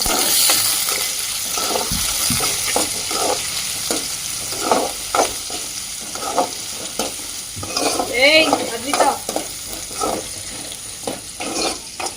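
Green chilies, curry leaves, onions and ginger frying in hot oil for a puri curry, with a steady close sizzle broken by repeated stirring scrapes and a brief splash of water near the middle.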